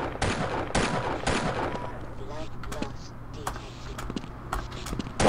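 Gunfire in the Half-Life video game rings out as rapid sharp shots aimed at the player. Several bursts come early and scattered cracks follow, under a player's excited talk and game sounds.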